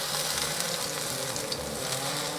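Flying Dutchman burger patty sizzling on a flat-top griddle with a splash of liquid, giving a steady, loud, close frying hiss throughout with no voices.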